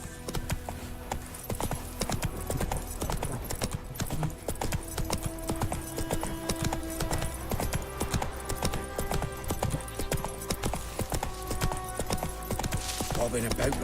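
Horse hooves clip-clop in a steady rhythmic gallop in the video game The Witcher 3, continuous throughout, with occasional soft game sounds and a faint voice in the background.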